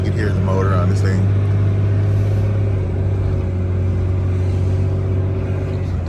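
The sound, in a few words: truck motor climbing steep street towing hooklift trailer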